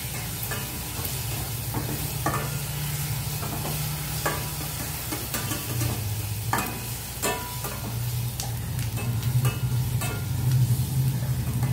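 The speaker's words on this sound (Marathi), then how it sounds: "फक्त आपल्याला हे फ्राय करून घ्यायचंय" Boiled eggs frying in oil for egg butter masala give a loud continuous sizzle, with intermittent scraping clicks from a spoon stirring the pan and a low hum underneath.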